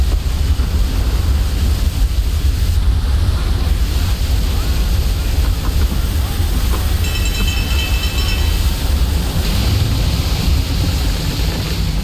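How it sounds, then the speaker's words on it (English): At sea aboard a sailing warship in Assassin's Creed 3 Remastered, a storm with rogue waves churns as a loud, constant roar of crashing water and gusting wind, dense and unbroken throughout. "Limit damage from rogue waves."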